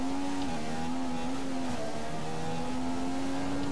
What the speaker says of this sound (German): Das merkt man beim Motor richtig, wie er so hoch dreht und wieder runter dreht.